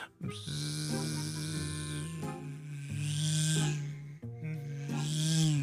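Voice imitating a mosquito buzzing around a person at night, a continuous nasal whining hum that swells and fades in waves, close and steady, with no words.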